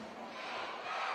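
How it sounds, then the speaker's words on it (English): A basketball crowd at a women's league game roars and cheers in a large arena, a steady wash of massed voices at moderate loudness that swells slightly toward the end. "It's the outside crowd getting involved here at their new home."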